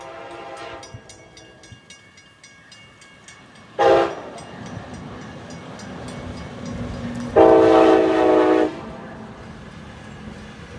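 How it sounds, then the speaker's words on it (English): An Amtrak westbound train led by ACS-64 locomotive 636 passes a grade crossing on the Northeast Corridor, with crossing bells ringing steadily, two loud horn blasts, and rumbling wheels throughout. "ACS 64636 does the honors of leading our first westbound at this location."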